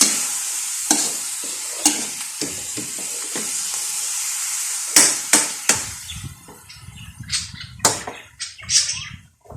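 Spicy bagoong fries in a pan as a utensil stirs and scrapes it, sharp clattering strokes at irregular intervals over a constant sizzling hiss, close and loud.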